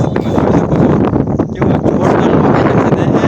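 Cold wind blows across open countryside near a village in the Bhal region, roaring steadily and loudly against the microphone the whole time with no pauses.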